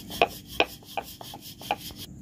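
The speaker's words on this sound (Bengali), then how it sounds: "এবার আমি রুটির শেপে বেলে নেব।" Maida dough for khasta gaja being rolled into a roti shape, heard as a few distinct dull knocks and rubbing strokes of a rolling pin on a board, close by with short pauses between and no talking.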